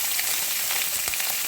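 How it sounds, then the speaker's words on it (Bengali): Potatoes frying in a pan: a dense, hissing sizzle fills the short stretch evenly and loudly, close up, with a faint crackle near the end and no talking. "আলুটা ভেজে নিচ্ছি। হ্যাঁ, আলুটা ভেজে নিচ্ছি।"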